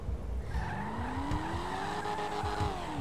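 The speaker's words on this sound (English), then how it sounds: "It's pretty good at drifting too." Tires shriek in a sustained, rising squeal as a car drifts in GTA 5, with the engine roaring close underneath throughout.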